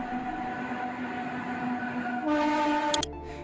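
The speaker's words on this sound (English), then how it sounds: "This is an electric locomotive" An electric locomotive hums along on rails with steady tonal motor whine, rising briefly louder before two sharp clanks and a sudden drop to a low rumble.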